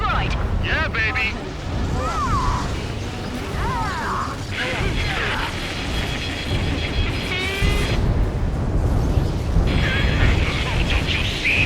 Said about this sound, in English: Confirming explosions. The rail cannon's been destroyed.